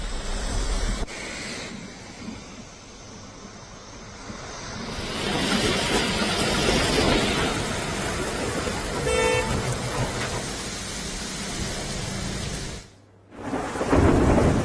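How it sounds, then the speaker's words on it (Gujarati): Heavy rain pours over a city street in Ahmedabad during a thunderstorm, a steady loud hiss with a thunder rumble and passing traffic, a brief dropout near the end. "અમદાવાદ શહેરમાં વહેલી સવારથી ધોધમાર વરસાદ વરસી રહ્યો છે"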